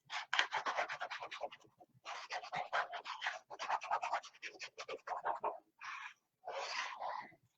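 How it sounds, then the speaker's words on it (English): Paper being burnished by hand onto a page of a Kringle and Co recipe mini album: close, dry scratchy rubbing strokes in steady repeated bursts, with short pauses between passes and no talk. "And again, burnish this in."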